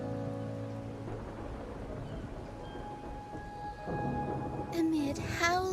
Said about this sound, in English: I wonder if it's the rain.